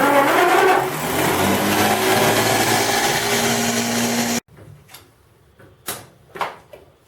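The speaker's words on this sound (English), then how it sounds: "The generator is motoring." A 1917 Buick jughead engine's starter/generator is motoring, with the distributor cap off, making a steady loud mechanical whir for about four seconds. It stops abruptly, followed by quiet clicks and light handling noises.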